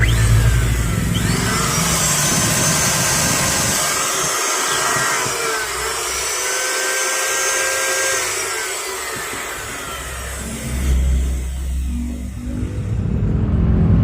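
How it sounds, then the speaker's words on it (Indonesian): Maktec MT192 electric wood planer switched on and left running, a steady loud motor whine and whir holding for the whole stretch, dipping slightly midway, then surging again near the end. "biasanya saya tes nyalakan terlebih dahulu untuk memastikan mesinnya ini hidup atau tidak"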